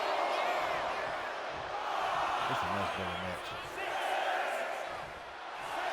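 A wrestling arena crowd at a WWE Raw/SmackDown show roars in swelling, sustained waves of cheering, with a commentator's voice briefly over it.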